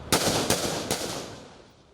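Gunfire rings out during a police shootout with drug factions in a northern Rio de Janeiro community: three sharp shots about half a second apart, moderately distant, each trailing off in a long echoing reverberation.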